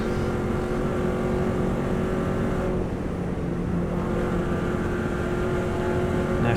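A Subaru WRX STI engine drones loudly at high speed on the Isle of Man TT course, a steady deep roar with a slight dip in the middle, close and continuous, heard from inside the car.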